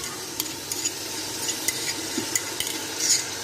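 Beef frying in a pan with garlic and ginger, stirred with a utensil: a soft, continuous sizzle broken by frequent clinks and scrapes of metal against the pan, close by and with no talk.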